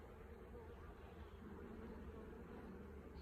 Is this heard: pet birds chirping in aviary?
no